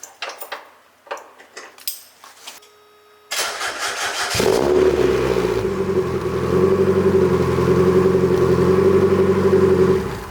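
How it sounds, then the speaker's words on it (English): A few metallic clinks come first, then a Mazda Miata with a Manzo catback exhaust cranks and fires up. It settles into a steady, growly idle that is loud and close. "I'm gonna start it now, and you guys get the first impression of the idle"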